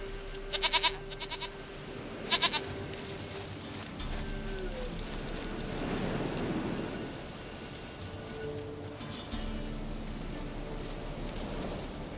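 A goat in The Witcher 3 gives two quick shaky bleats near the start, each a rapid quavering cry. Soft ambient game background and low rumbling tones follow without speech.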